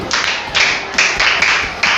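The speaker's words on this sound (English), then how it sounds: "Clap for him" A group of schoolchildren clapping for a classmate in a classroom: about five loud, rhythmic bursts of applause close by.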